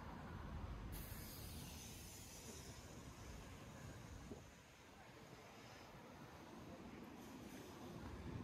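Electric trolley bus passing on Denman Street in Vancouver's West End, a low steady rolling rumble and whoosh under city street ambience and breezy wind noise, moderately distant and fairly quiet.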